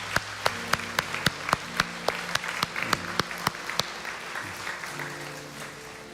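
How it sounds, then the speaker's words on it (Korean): Congregation applauding during a Sunday church service to bless missionaries, a steady patter of many hands with sharp individual claps at a regular beat, moderately close, fading toward the end. "우리 박수로 한번 축복해 주시기 바랍니다"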